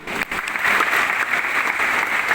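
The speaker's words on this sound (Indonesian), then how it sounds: "Tepuk tangan, tepuk tangan." A church congregation claps after singing, a short, dense burst of applause from a crowd indoors, steady and moderately loud.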